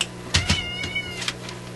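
Draper, a house cat, gives a few short, close meows in quick succession indoors, with a faint steady hum in the background and no talking.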